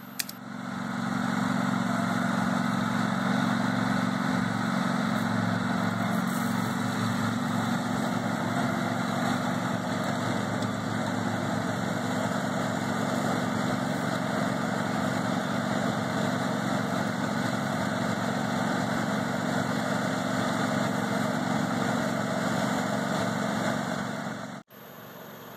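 A Walker riding lawn mower with a skid plate fitted to its deck drones continuously at high revs across rough ground, loud and steady throughout before cutting off abruptly near the end.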